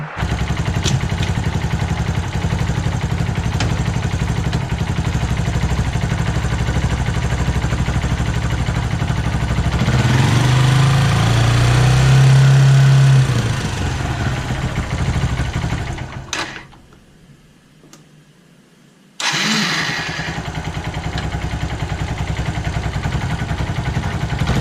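A Kawasaki motorcycle engine runs steadily and loudly during a retest after a faulty side stand switch repair, dropping out briefly near the end before resuming.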